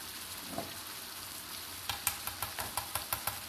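Food stirred in a pan over steady frying sizzle, with a run of quick, evenly spaced scraping strokes near the end, close and moderately loud.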